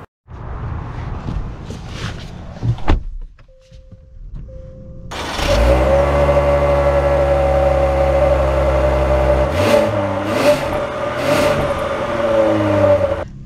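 A 2024 Genesis G80 3.5T starts up and settles into a steady, loud engine hum inside the cabin, then revs up several times as it sets off, with a few small clicks before the engine starts.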